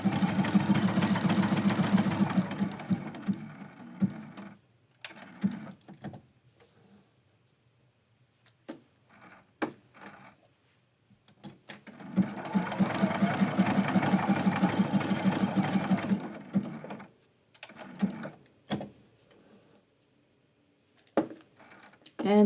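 A sewing machine stitches down red appliqué pieces on a quilt-as-you-go Christmas quilt block, running in two long close bursts with quieter gaps of handling and faint talk between.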